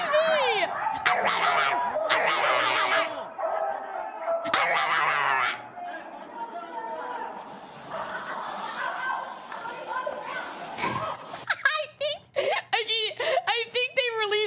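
A police dog in a video game barks and yips in repeated loud bursts over excited talk and laughter, then gives whimpering, howl-like cries near the end.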